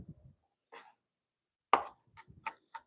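Knife mincing vegetables on a cutting board, heard as a few sharp, separate chops spaced irregularly, close and fairly crisp, with quiet gaps between them and no talking.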